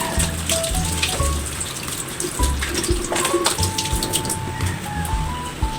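Water runs from a kitchen tap while something is washed under it, a steady splashing gush broken by small clinks and knocks in the sink during breakfast preparation.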